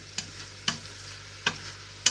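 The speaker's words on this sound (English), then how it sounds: "to mix the onion and the garlic and the meat together" Onion, garlic and ground meat fry together in a pan under a soft, steady sizzle, with four sharp spatula scrapes at irregular intervals as they are mixed, close and quiet.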